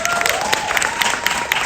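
A festival audience at a Red Sea Film Festival conversation with Nicolas Cage in Jeddah gives a short burst of applause, the clapping fairly full with a few louder individual claps poking through.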